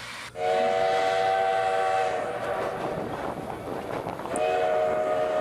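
A tourist train's whistle blows loudly in long sustained blasts on the Black Hills Central Railroad in South Dakota, pauses briefly under rumbling engine and rail noise, then sounds again near the end.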